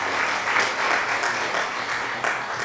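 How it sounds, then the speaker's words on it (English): Steady, dense applause from a crowd of many hands, holding at an even level throughout with small swells and no pauses. "Thanks for the applause, creators."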